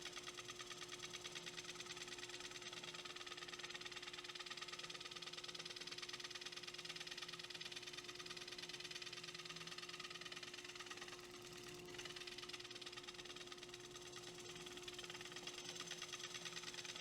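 A wood lathe turns a bowl while light cuts are taken, producing a steady motor hum with a faint rhythmic rasp of the tool on the spinning wood throughout.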